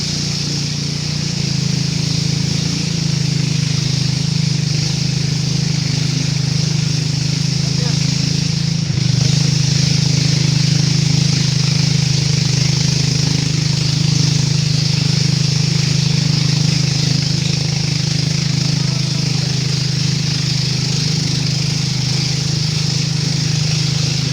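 A trawler boat's engine chugs slowly along a hill river, a steady, loud, close drone that holds unchanged from start to finish.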